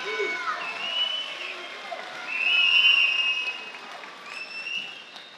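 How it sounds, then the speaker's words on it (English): Crowd applause and cheering at a Sparta 97 combat fight between Quan Hall and Keynan Davis after a three-round bout, a broad steady wash with a swell in the middle and an announcer's voice over it. "Give these fighters a round of applause for laying it on the line."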